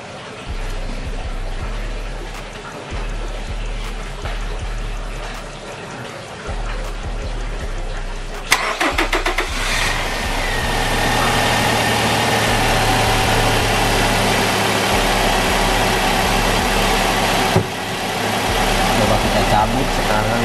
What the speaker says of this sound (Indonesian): Kita coba cranking sekarang mobilnya ya.